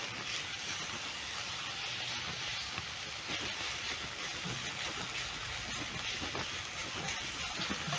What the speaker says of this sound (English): I'm going to let the onions saute until soft.